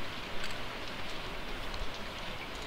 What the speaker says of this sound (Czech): v tom dešti to nebudu dělat